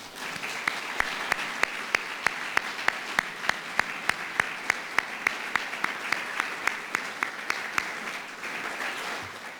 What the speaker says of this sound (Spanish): para quien pido nuevamente un aplauso en este momento